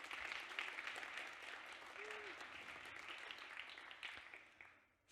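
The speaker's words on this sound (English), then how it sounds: "a round of applause to say thank you to everyone for making this happen" Conference audience applause at a PHP developer event: a large room of people clapping in a dense, steady wash, somewhat distant and soft, with a faint voice or two underneath before it cuts off at the end.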